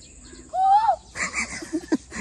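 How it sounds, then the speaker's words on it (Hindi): An Asian koel gives a single rising whistled note, clear and fairly close, followed by a few fainter chirps and scattered bird sounds against a quiet background. "आप कोयल की आवाज़ रिकॉर्ड करें।"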